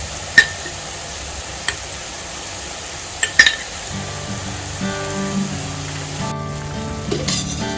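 Ginger and garlic frying in a pan for chicken curry, a close hiss of sizzling oil broken by a few sharp clicks and spatula taps, with a faint tonal hum entering partway through.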